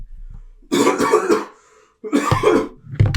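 Hard, forceful coughing voiced by a storyteller imitating a sick dwarf during a tabletop fantasy role-playing game, two loud harsh bursts separated by a short pause, close and alone.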